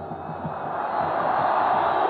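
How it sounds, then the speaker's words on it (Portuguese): São Paulo football supporters in a 1992 stadium chanting and jeering at a Corinthians player, a loud, sustained roar of massed voices that swells steadily, heard from a distance under broadcast ambience. "A torcida do São Paulo agora provocando o jogador Nelsinho"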